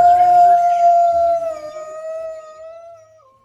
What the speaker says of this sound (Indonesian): lihat teman-teman, di sini ada serigala